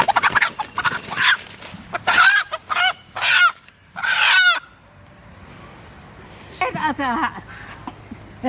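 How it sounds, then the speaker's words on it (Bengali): A desi country hen clucks and squawks in a village courtyard, several sharp close calls in the opening seconds, then quieter, with a few more calls near the end, over a low steady background hum. "দেখুন তেজটা দেখুন মুরগিটার।"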